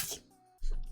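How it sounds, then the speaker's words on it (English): A sneeze from someone who is sick, a single short burst near the start followed by a quiet pause and then a low rumbling noise. "I have to sneeze again."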